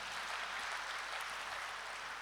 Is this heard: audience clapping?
yes